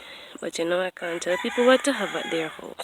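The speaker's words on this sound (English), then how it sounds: "sorry about the noise of the chickens." Neighbours' backyard chickens in Jamaica crow and cluck nearby while someone talks over them.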